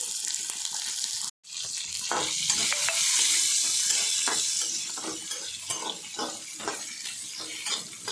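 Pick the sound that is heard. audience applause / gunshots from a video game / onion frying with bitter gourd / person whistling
onion frying with bitter gourd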